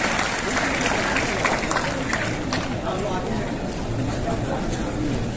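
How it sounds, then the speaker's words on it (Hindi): Audience at the Bihar Youth Conclave 2022 seminar applauding to welcome the chief guest, a dense, steady wash of clapping and crowd noise lasting several seconds, with voices mixed in. "जोरदार तालियों से स्वागत करें, वेलकम करें"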